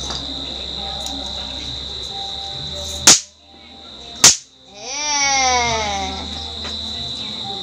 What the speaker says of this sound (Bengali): আমার ছেলে আমার মেয়ে সবাই বাজি ফাটাবে এবার